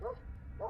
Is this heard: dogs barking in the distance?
yes